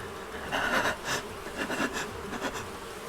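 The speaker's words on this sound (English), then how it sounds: "The bees are buzzing in my controllers." Buzzing of bees from the Animal Crossing: New Horizons video game, coming through a Joy-Con controller speaker held near a microphone, in several short bursts with no talk.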